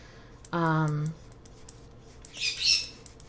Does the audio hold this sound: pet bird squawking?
yes